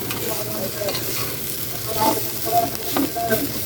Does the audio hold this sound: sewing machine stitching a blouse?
no